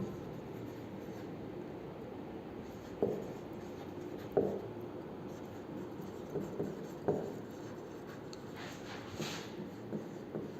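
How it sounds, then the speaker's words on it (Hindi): Handwriting with a pen on paper, a soft continuous scratching with a few light taps as strokes start, faint and close against a quiet room hum. "मैं लिखता हूं।"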